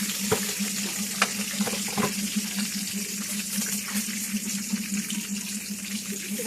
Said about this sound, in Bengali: এলাচি, দারচিনি ফোড়নে দিয়ে দিলাম।